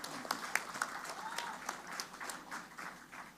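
Scattered, fairly faint clapping from a small crowd at the opening of a mangrove botanical garden in Surabaya, uneven and thin rather than a full ovation.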